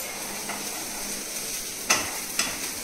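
Onions stirred in a frying pan, a soft continuous sizzle with two sharp scraping clicks of the utensil near the end, no talking.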